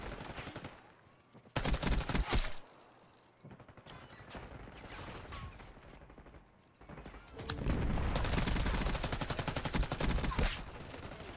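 Bursts of rapid automatic gunfire in the Call of Duty Black Ops 6 multiplayer video game, loud and close, with quieter gaps between volleys and a long sustained barrage near the end.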